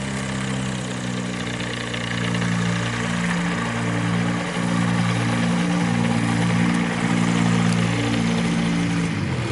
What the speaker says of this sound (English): the approved method for stopping when you get to where you want to go, you just shut off the engine